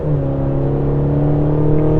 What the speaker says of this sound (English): Yeah, it's a decent little engine noise.